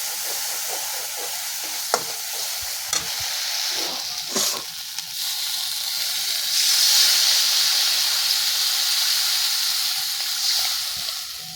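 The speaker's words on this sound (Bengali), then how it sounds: "এর মধ্যে আমি এখন জল দিয়ে দেবো" Water poured into a hot pan of frying pabda fish for a mustard curry, a loud hiss that swells and holds steady at close range, with a few stirring knocks early on.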